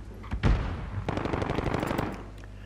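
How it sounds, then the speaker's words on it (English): Gunfire in Call of Duty Modern Warfare on PS4: a single sharp shot followed by a rapid rattling burst of automatic fire, fairly close and loud, with no talking. "So there's some shootings going on down there"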